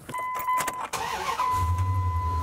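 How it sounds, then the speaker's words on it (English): A car engine cranks and catches after a short electronic chime, then settles into a steady low idle close by, with no talk. "Next, you get in your car and start the engine."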